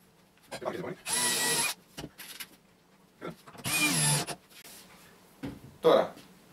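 A small drill bit bores a pilot hole in wood as two short whirring bursts, each about half a second long, separated by quiet pauses with someone speaking between them.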